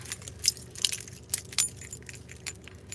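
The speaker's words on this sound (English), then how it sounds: "Grab my keys." A set of keys jangles as it is picked up, a few light metallic clinks and rattles in quick bursts, close and fairly quiet.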